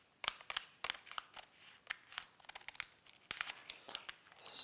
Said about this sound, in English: We'll just need a pair of scissors to just snip the top off there.